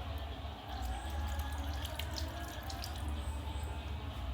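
Water runs steadily from a tap while hands are rinsed at a sink during aseptic handwashing, a continuous close splashing flow with faint drips and no talk.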